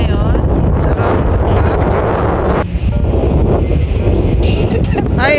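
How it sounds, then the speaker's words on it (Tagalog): Strong wind buffets the microphone on the back deck of a ship in Croatia, a loud continuous roar with gusty surges throughout. "Grabe mahangin siya."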